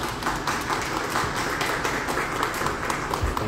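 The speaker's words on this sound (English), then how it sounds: "let's give Amanda and Thomas a round of applause" An audience at a pre-show author talk claps in a dense, steady round of applause that fills the room from start to finish.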